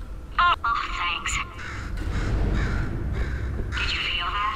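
A crow caws in the Portal 2 video game, a few harsh calls up close, followed by a rumbling game ambience with a second burst of cawing near the end.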